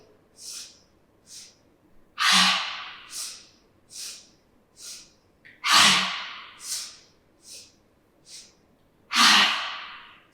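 Rapid, forceful nasal breaths of an energizing yoga breathing exercise, close up, with sharp bursts spaced unevenly between softer quick exhales and no talking.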